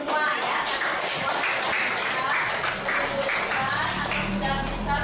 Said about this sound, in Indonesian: Tepuk tangan untuk semua ya